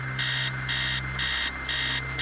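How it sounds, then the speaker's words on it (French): An alarm clock rings in the Stories Untold video game, sounding in regular repeating bursts of a shrill electronic tone over a steady low hum, about four pulses in a couple of seconds, with no voices. "Arrêtez le réveil."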